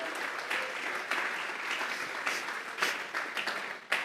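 A church congregation gives a steady round of applause during a worship service, with louder bursts of clapping rising out of the dense crowd noise throughout.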